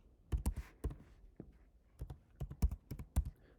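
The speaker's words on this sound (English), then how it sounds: "keyboard" Quick bursts of computer keyboard typing, close and fairly quiet, with irregular clusters of key taps and brief pauses between them.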